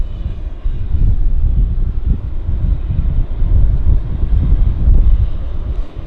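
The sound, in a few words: Air Canada Boeing 777 taxiing out at Vancouver Airport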